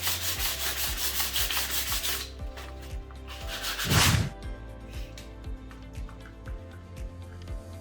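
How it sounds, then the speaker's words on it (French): Wooden planks are sanded for a homemade coffee table, giving steady, close abrasive rubbing with repeated back-and-forth strokes. A brief louder scrape comes midway, then the sanding continues more softly. "Un petit coup de ponçage."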